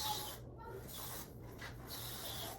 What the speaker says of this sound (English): let me put some type of spray